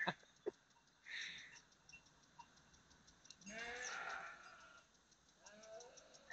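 Hungry sheep (rams) bleat close by on a farm. There are several distinct, wavering cries, two of them longer and louder, separated by quiet moments with faint ticking in the background.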